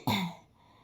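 Single short, harsh throat-clearing cough from a person with a lingering cough, loud and close, fading quickly into a quiet room.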